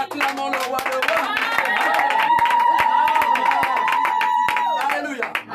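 A church congregation claps rhythmically and cheers during a praise service, with sustained singing and voices over steady hand claps throughout.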